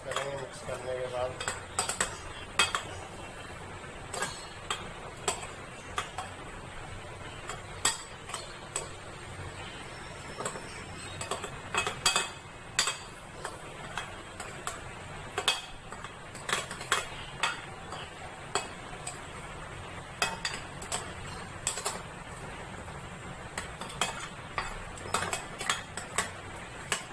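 Mutton is mixed with spices in a bowl, and a spoon clinks and scrapes against the dish in frequent irregular knocks over a steady low background, with occasional faint sounds in between.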